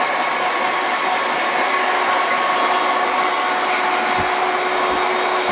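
A hair dryer fitted with a nozzle blasts steadily, a constant loud airy whoosh with a faint whine, as it blows medium-length hair forward during a haircut.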